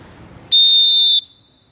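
A referee's whistle gives one sharp, loud blast of about two-thirds of a second to signal a player being carded, cutting off cleanly against a quiet background.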